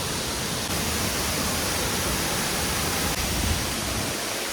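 A waterfall roars as a dense, steady rush of falling water, loud and close, with an even wash of noise that never lets up.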